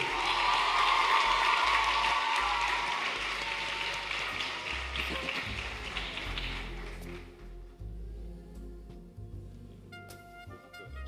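School speech day audience claps for a top-performing student, sustained applause that gradually fades out over several seconds, leaving quiet room noise and scattered sounds.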